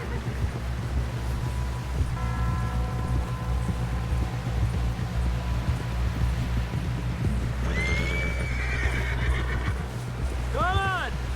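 In the video game Red Dead Redemption 2, a horse whinnies loudly near the end, with rhythmic hoofbeats and a steady low rumble throughout; a few voices call out over the scene.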